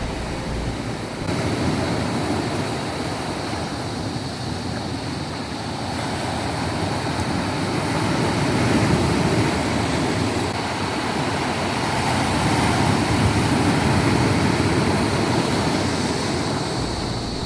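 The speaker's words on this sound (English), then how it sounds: "Listen to the rocks moving in the waves." Steady surf washes over a hidden tropical beach in Catanduanes, a continuous roar of breaking waves and tumbling stones with a hissing wash, loud and close, with no voices.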